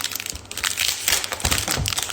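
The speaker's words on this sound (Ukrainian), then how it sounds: "Дуже така тоненька фольга." Very thin foil packaging being handled during an unboxing, crinkling and crackling in close, irregular bursts with sharp crisp rustles.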